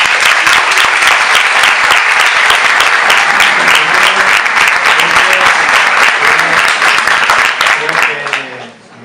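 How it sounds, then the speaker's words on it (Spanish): An audience applauds steadily at a debate event on Catalonian independence. Dense, loud clapping runs without a break for about eight seconds, then quickly fades out at the end. "es mejor que dejemos los aplausos para el final del acto"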